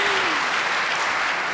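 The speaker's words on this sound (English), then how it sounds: "let's just clap." An audience applauds at a State of the State gathering, a dense, even patter of many hands clapping throughout, fairly loud and close, with no words over it.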